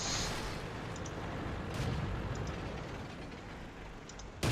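Rumbling tank gunfire and distant artillery booms from a World of Tanks battle, a dense low roar with sporadic thuds, ending in a sharp close shot.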